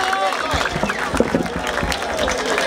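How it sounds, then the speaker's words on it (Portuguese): A crowd at a Brazilian rap battle in Barueri, São Paulo claps and cheers in a dense, loud, continuous wash, with voices shouting over it. "Palmas pra essa batalha, família, palmas pra essa batalha."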